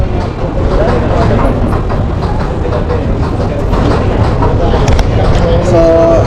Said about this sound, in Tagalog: pag 1 minute parating na yung tren, tapos mag-open yung pinto